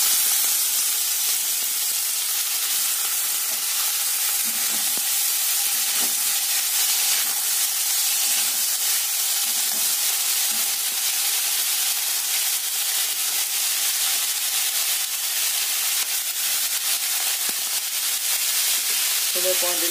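Chopped banana stem goes into hot oil after whole spices are tempered, and it gives a steady, dense frying sizzle and hiss that holds evenly for about twenty seconds, close and continuous with no talking.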